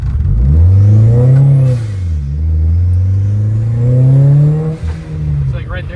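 A Volkswagen car engine revs up and down in smooth, rising and falling sweeps, loud and close, with a short pause between two long revs.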